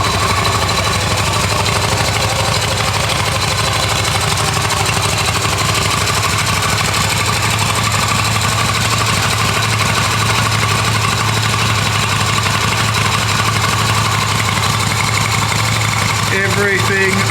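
A Yamaha XV250 motorcycle engine runs at a steady, loud idle close by, with a throbbing mechanical drone throughout and a brief clatter near the end.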